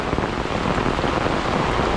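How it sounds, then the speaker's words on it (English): Heavy rain pours down outdoors during a thunderstorm near a river and hillside, a dense, steady roar of water hitting surfaces with no pauses. "You can see all this rain."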